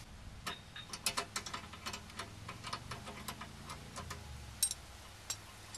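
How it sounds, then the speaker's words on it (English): A ratchet wrench backing a bolt off an end link during chassis work on a 2008-or-later Honda Accord: quick, faint clicking runs in irregular bursts, fading toward the end, no talking. "Take off the bolt."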